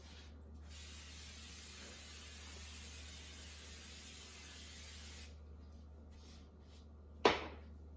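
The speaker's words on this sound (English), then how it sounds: "So I'm going to spray our pizza pan." A long, steady hiss of cooking spray coating a pizza pan runs for several seconds, then stops, followed by a short sharp clatter.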